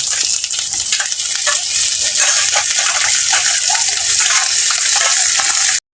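Onions fry loudly in a pan for a crab curry, giving a dense, continuous crackling sizzle that holds steady throughout and stops abruptly at the end.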